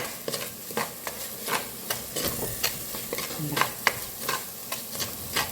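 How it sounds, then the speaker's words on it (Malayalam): Egg masala sautéed in a pan until the oil separates, a continuous close sizzle with regular scraping strokes of a spatula stirring every half second or so, no voices. "എണ്ണ തെളിയുന്നിടം വരെ വഴറ്റാം എന്നാണ് ആഗ്രഹിക്കുന്നത് അങ്ങനെ ഞാൻ വഴറ്റിക്കൊണ്ടിരിക്കുകയാണ്"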